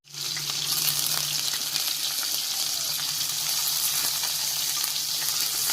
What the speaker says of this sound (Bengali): এবার পেঁয়াজ দিয়ে দিচ্ছি তেলে